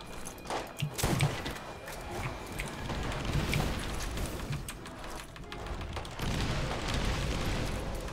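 Grenade blasts and combat noise in the shooter game Borderlands, a string of muffled booms and pops at a low, steady level, with the first bursts coming close together.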